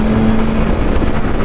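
A 2024 BMW S1000RR motorcycle running steadily on the road, a loud continuous engine drone with wind rush, close and sustained without a distinct rev peak, no voices over it.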